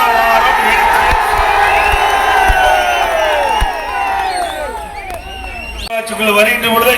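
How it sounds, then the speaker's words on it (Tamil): Dense political rally crowd in Tamil Nadu roaring and cheering continuously, with whoops and shouts layered over a steady wall of voices, loud and close throughout. "இதுவே மக்களுடைய ஆரவாரம்"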